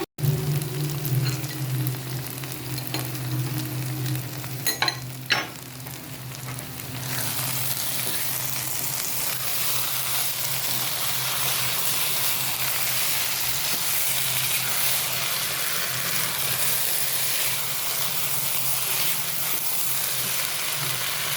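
Chicken with rice and lentils sizzling steadily in a pan for khichuri, a loud continuous frying hiss with a brief stirring clatter early on, no voices.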